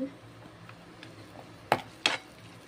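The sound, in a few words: stirring rasam ingredients in a pan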